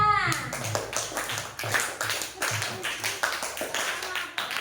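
A class of children clapping indoors, irregular bursts of hand claps repeating through the clip, with children's voices chattering underneath.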